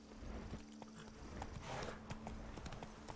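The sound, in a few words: horse Roach trotting in The Witcher video game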